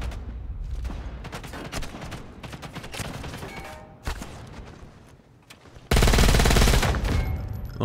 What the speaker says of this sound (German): ballern sich da unten gerade gegenseitig über den Haufen